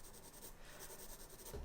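Graphite pencil shading on textured paper for a hyper-realistic skull drawing, a soft, steady scratchy rasp of repeated short strokes, close and quiet, with no voices.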